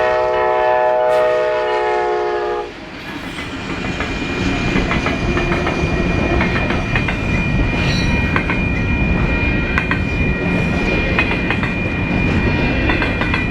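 A westbound Union Pacific intermodal freight train's horn sounds briefly, then the loud, continuous rumble and clatter of passing railcars rolls on steadily, close by.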